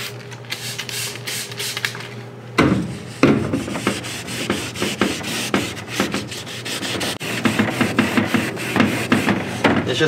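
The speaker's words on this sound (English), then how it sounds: "It's just really hard to sand" Hand sanding a plastic car headlight lens, a steady run of close, rough back-and-forth scraping strokes that continues loudly throughout without speech.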